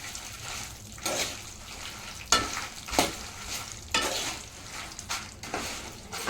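Garlic frying in hot oil with dried red chillies, chana dal and urad dal for a gongura pickle, a steady sizzle broken by several sharp scraping bursts of stirring.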